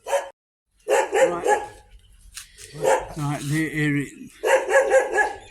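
Dogs bark repeatedly at a dog sanctuary in Chonburi, Thailand, in loud bursts at the start and end, with someone talking in between and across the barking.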